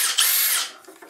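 A Makita DHR171 battery-powered hammer drill spins up briefly, a loud high-pitched whine lasting about half a second before winding down, with a small click at the end.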